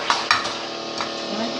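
A spoon scrapes and clinks against a pot as Jamaican banana porridge is stirred, two sharp knocks followed by softer swirling, close by with a faint bubbling hiss beneath.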